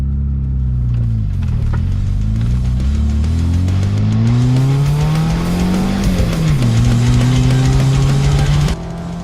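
A car with a Rover K-series engine and no ESP or ABS accelerates hard, its loud, close engine note climbing through the revs with gear changes and faint tire noise.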